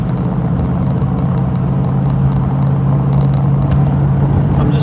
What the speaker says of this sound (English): the car does sound good down here though. You can hear the exhaust.